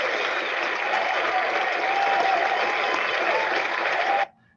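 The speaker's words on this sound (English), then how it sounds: "I will lead the applause" Sustained, dense applause from an audience at a law school alumni fellows ceremony, loud and steady at constant volume, then cutting off abruptly near the end.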